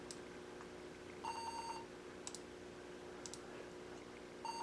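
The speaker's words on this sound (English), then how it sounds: "That's a very angry-sounding beep, don't you think?" Error beeps from a Dell Latitude C610 laptop failing to boot from its CD-ROM drive: a few short, steady electronic tones repeat at intervals over a low fan hum, with some faint clicking.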